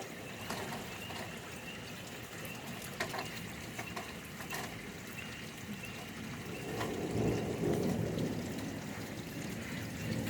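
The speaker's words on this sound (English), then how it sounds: "seems like the storm is like coming from down there" Steady thunderstorm rain hisses throughout, with a deeper rolling rumble of thunder swelling late in the passage. No voices.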